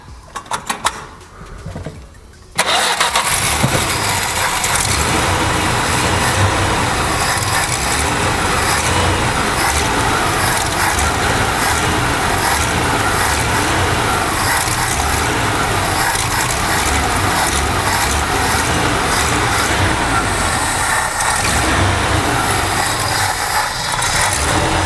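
A warmed-up engine with a freshly rebuilt carburetor runs loud and rough throughout, failing to settle into an idle, after a brief quieter moment at the start.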